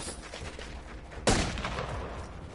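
Gunfire in a video game, a single sharp loud blast erupting midway through a background of rumbling combat noise, with no speech.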